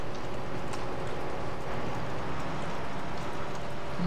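Steady rain in the Farming Simulator 15 video game falls as a continuous, even hiss of moderate loudness with no pauses or voices.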